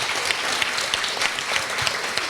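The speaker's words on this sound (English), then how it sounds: "So I'd like to ask for a big round of applause for all of us, but Aviak and Iboni as well" An audience at a panel on Indigenous voices in children's books claps steadily, a close, even wall of applause holding at the same level throughout the short stretch.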